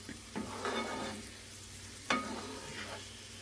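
Pressed garlic cooking over medium-low heat in a pan, a quiet steady sizzle with a couple of sharper scraping stirs, no voices.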